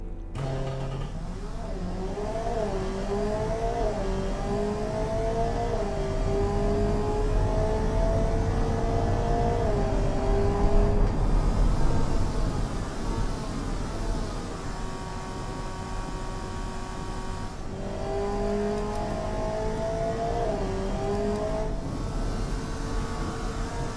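Simulated engine of a 2015 sports sedan in the game Automation, revving up and rising through the gears with repeated pitch climbs and drops at each shift, loud and continuous with no talk.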